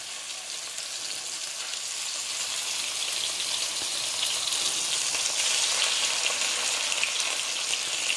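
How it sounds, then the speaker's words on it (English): A lamb steak fries in a hot pan, giving a steady, close hiss and sizzle that holds for the whole stretch with no voices. "Now this is a very quick fry"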